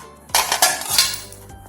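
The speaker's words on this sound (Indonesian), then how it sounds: "Kita bisa campur dengan tutup panci ini." An aluminium pot lid and metal spoons clink and clatter together in a few quick, bright metallic knocks as household waste is sorted, close and fairly loud with no talking.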